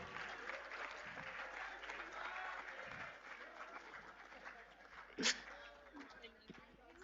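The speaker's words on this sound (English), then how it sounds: "Give her a big round of applause," An audience claps steadily in a hall at a TEDx event, a dense sustained patter of hands heard from a moderate distance, with a single sharp whistle or cheer late on.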